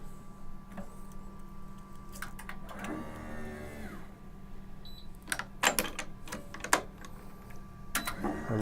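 An Ektelon racquet stringing machine tensions a string on a Power Ring 8 racquet, giving a grinding, ratcheting run of mechanical whirring followed by sharp clicks and clacks of the clamp snapping shut, close and moderately loud over a steady low hum.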